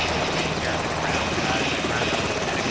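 A helicopter in the military video game ArmA 2 makes a loud, continuous rotor and engine roar that fills the whole stretch, steady and close, with no talk.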